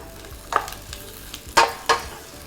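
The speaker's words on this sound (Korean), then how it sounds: "한 5분 정도 이렇게 달달 볶아주는 거예요" Butterbur stalks stir-fried in a pan with perilla oil, a low sizzle broken by three sharp scraping strokes of a utensil against the pan, close and without speech.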